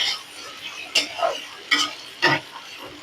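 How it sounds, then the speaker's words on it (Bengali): Fish bones being stirred and fried in a pan, with a few scraping stirs spaced about a second apart over a faint sizzle, close and moderately loud. "মাছের কাঁটা দিয়ে কিন্তু ভালো করে কষিয়ে নেব"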